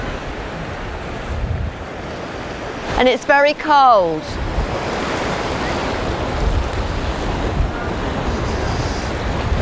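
Surf and strong wind at Grenen, the northern tip of Skagen where the Skagerrak and Kattegat seas meet, a steady roar of waves with gusty wind buffeting the microphone, and a brief spoken remark partway through.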